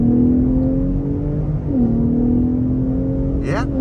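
A 2023 Ford F-150 Raptor accelerates hard in four-wheel drive, its engine holding a steady loud drone from inside the cab, with a dip and shift in pitch partway through and a brief rising whine near the end.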